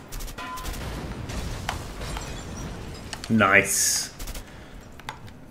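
Gunfire in the co-op game A Way Out striking a fire extinguisher: scattered shots, then a loud burst and hissing spray from the ruptured extinguisher, with a voice speaking briefly.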